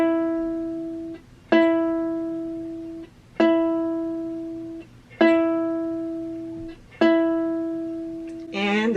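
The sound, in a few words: ukulele second string E plucked while tuning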